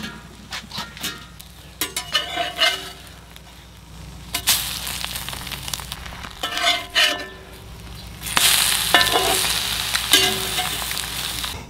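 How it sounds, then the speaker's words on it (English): Eggs frying in a pan with a steady crackling sizzle that swells and fades, punctuated by scrapes and light clatters of a utensil against the pan, and no talking. "All right, let me give these eggs a flip."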